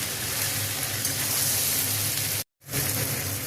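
Dry ground coriander, chilli, turmeric and salt fry with vegetables in a pan for a Malabar spinach labra, giving a dense, even sizzle like rain that cuts out abruptly for a moment before resuming.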